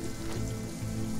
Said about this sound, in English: and now it's black rain